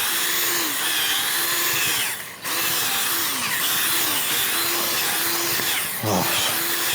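A power tool churns loose clay soil in a homestead garden, its motor whining in repeated rising and falling surges with gritty broadband noise and a couple of sharp knocks, close and loud.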